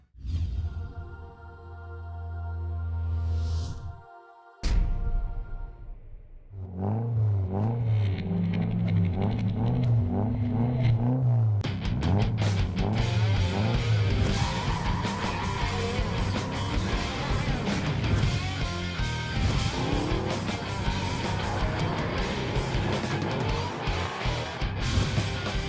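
Drift cars at round 3 of the 2016 French Drift Championship: after a short tonal intro and a brief pause, engines roar and rev up and down repeatedly with whooshing passes and tire noise, loud and continuous.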